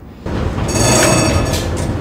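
A restored articulated tram from Lviv, with its running gear, motors, motor-generators and traction motors fully overhauled, rolls along the rails with a steady, loud rumble and a faint high whine that holds for about two seconds.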